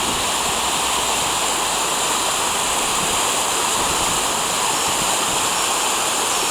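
Rushing stream water in Malatya, part of a spring-fed channel feeding the Beyler Deresi, roars steadily and close with no pauses, a dense broadband wash that fills the whole stretch without any voices.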